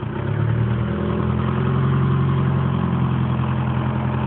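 A Polonez car engine running steadily while the clutch is released, a loud, continuous low hum close by with no speech over it.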